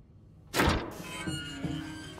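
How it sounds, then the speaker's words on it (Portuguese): Safe in This Bed We Made swinging open with a sharp metallic clunk, followed by a fading resonant ring and a few faint creaks and taps. "Vamos lá abrir o cofre."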